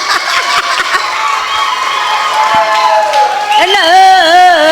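Audience at a Tamil debate show (pattimandram) bursts into sustained applause and cheering, a dense roar of clapping and shouts with voices rising over it toward the end.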